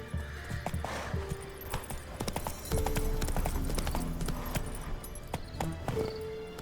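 Roach the horse from The Witcher 3 trotting, with crisp repeated hoofbeats in an uneven galloping rhythm over game ambience and music, and a brief whinny-like tone near the end.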